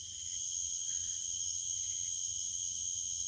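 A cricket trills outdoors in a steady, high, continuous buzz that carries at moderate volume over faint low background noise, with no voices.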